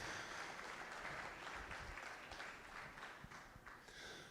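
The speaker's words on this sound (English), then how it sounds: "they all deserve a huge round of applause" A crowd gives sustained applause for junior exhibitors at a 2023 junior beef expo. The dense clapping is moderately faint and continues throughout, with a few louder individual claps standing out.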